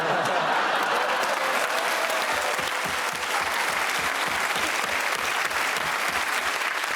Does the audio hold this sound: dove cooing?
no